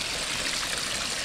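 Garden pond waterfall runs in a steady, close splashing rush of falling water, continuous and even with no other sounds.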